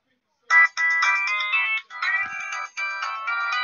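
A melodic electronic phone ringtone plays in loud, repeating bursts with short gaps between them, cutting into a session of the retro computer game Action PC Football 1982. No one talks over it.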